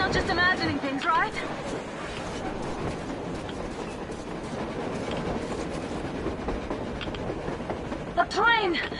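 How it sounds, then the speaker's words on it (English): Rumbling train passing over the snowy surface in the Metro video game, a continuous rolling clatter of rail cars beneath wind noise, with voices speaking at the start and end. "A train! A damn train on the surface!"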